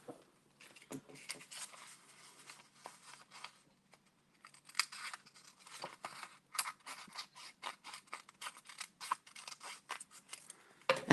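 Paper is cut with scissors in a quiet room, a series of close, crisp snips and rustles coming in irregular bursts with short pauses between them.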